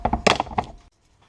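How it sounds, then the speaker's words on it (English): Quick metallic-wooden knocks strike a seized speedometer gear on a 1979 Yamaha DT100, roughly six sharp taps in rapid succession, close and fairly loud, then sudden quiet. "So now you can get in there and bang away on this gear here if yours is seized up."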